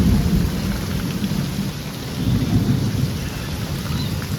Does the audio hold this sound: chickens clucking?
no